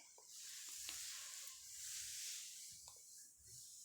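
Eggplant bajji, a Gadag-style brinjal fritter, frying in hot oil, giving a steady bright sizzle throughout with a few faint stirring clicks underneath, close and moderately quiet.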